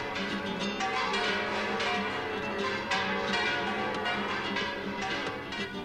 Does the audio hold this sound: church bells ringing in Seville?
yes